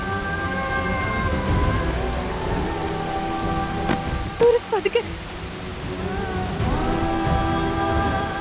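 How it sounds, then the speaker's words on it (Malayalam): Steady rain hisses down loudly and continuously in an outdoor scene from a dubbed TV drama. Background music plays underneath, and a voice speaks briefly midway. "ഇങ്ങനെ മഴയിൽ നനയുന്നത് ഒട്ടും നല്ലതല്ല"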